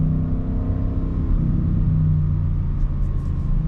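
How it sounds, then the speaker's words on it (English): A 2021 Audi RS6 Avant engine rumbles steadily at close range, its low drone shifting pitch as revs drop and rise through a downshift. "Downshifts sound great"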